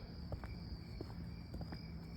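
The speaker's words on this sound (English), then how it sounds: "Crickets are out," Crickets chirp outdoors on a warm night beside a house, a faint steady high trill with soft scattered rustles or footsteps underneath, no talking.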